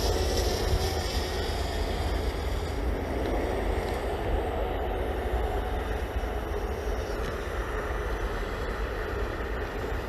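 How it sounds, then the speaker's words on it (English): A train rumbles past steadily and loudly for the whole stretch, a dense continuous roar with no voices, heard from a small drone flying nearby. "Or we've got a train."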